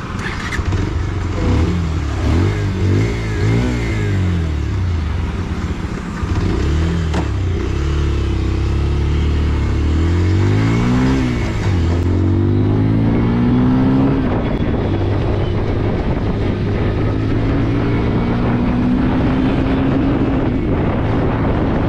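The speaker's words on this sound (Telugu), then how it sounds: "నేను థ్రోటల్ ఇస్తుంటే ఇంజన్ రెస్పాన్స్ చాలా బాగుంది." A 2025 Bajaj Pulsar 125 Neon 125cc motorcycle engine revs repeatedly, its exhaust note rising and falling in loud, close sweeps over steady wind noise, alone without talk.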